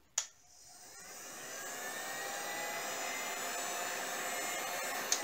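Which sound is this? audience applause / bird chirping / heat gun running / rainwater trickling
heat gun running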